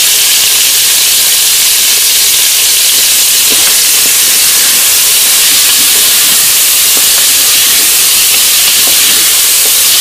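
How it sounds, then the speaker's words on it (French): Beef pieces with sliced onion and garlic browning in a multicooker on the browning setting, a loud, steady, close sizzling hiss that continues without pause. "j'ai mis sur la position dorée et je vais d'abord y faire dorer ma viande"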